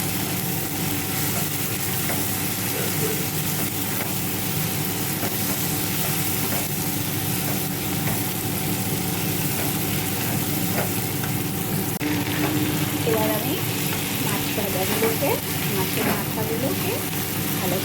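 Fish seasoned with turmeric, salt and Kashmiri chili sizzles and fries steadily in a pan, a constant loud crackle with occasional stirring, under a voice talking.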